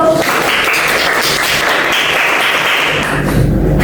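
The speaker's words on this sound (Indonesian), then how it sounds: "Beri tepuk tangan kepada Mbak Ayu." A junior high classroom applauds a student, producing a thick, continuous patter of many hands clapping at close range, with a low thumping rumble near the end.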